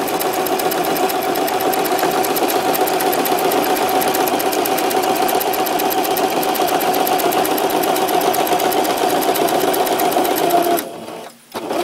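Straight stitching runs through paper on a sewing machine as a steady, fast, close whirring rattle for about eleven seconds, then stops abruptly with a short dip before a soft restart.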